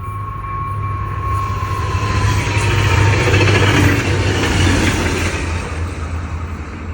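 A southbound FrontRunner commuter train passes close by with a steady, loud rumble and rolling wheel noise that swells near the middle and eases slightly toward the end, with no talking.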